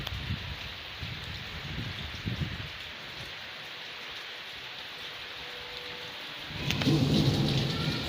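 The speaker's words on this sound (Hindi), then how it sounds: "अल्लाह ताला की रहमत की बारिश हो रही है।" Steady rain with low rumbles of thunder rolling underneath; the downpour swells louder near the end.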